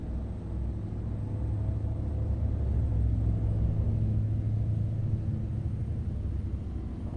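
Deep, steady truck engine rumble from American Truck Simulator, droning low and even at moderate level throughout with no voices over it.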